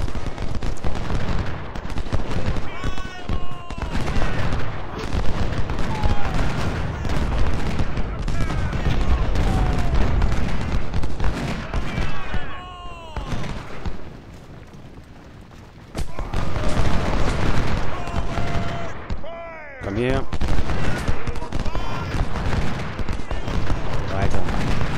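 Dense cannon and artillery fire from the Civil War strategy game Ultimate General: Civil War roars almost continuously, with booming volleys and crackling musketry, briefly dropping out mid-way before resuming loud, while someone speaks intermittently over the battle.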